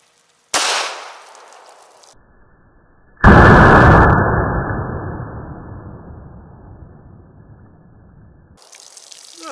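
A 124 grain bullet is fired into a green water jug, giving a sharp loud gunshot crack followed later by a heavy burst and splash that fades over several seconds.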